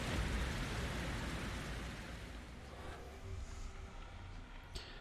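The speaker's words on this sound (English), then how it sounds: "It's been raining pretty heavily and pretty much all day today and yesterday." Heavy rain falls continuously as a faint, steady hiss of drops on surfaces, without pause for the whole stretch.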